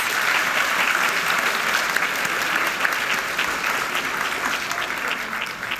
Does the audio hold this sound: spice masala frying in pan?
no